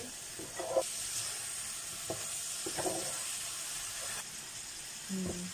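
Boiled and fried potatoes are stirred into a spiced mixture in a hot pan, giving a steady sizzle and hiss with scattered scraping strokes of the spoon, close and fairly quiet, with no talking.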